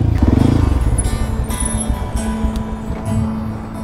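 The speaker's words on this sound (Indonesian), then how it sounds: "Enak kan knalpotnya?" Motorcycle fitted with a Radamel F4 titanium exhaust revving up close and loud, a strong throaty burst at the start followed by a lower, pulsing idle with further small revs.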